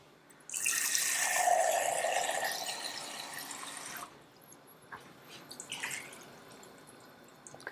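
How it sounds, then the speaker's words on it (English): Cold water pours steadily from a tap into a soup pot for cauliflower soup, a loud rushing splash for about three and a half seconds, then stops, leaving scattered faint drips and trickles. "We can add the water now. It's important to add cold water."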